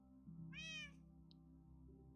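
A single cat meows once in the Minecraft video game, a clear mid-length call over a low steady game background hum, followed by faint clicks.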